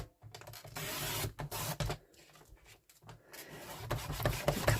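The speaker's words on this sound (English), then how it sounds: "So just popping that in my trimmer." A paper trimmer cuts cardstock down to size for a junk journal cover, making short scraping and sliding blade sounds with brief pauses between passes, close by and moderately loud.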